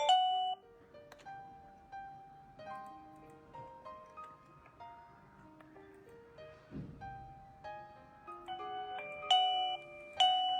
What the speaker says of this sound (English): We have 36 kinds of ringtones for your options.